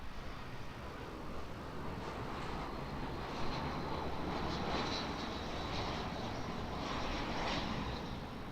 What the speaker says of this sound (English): let's catch this A320 coming in from Christchurch's flight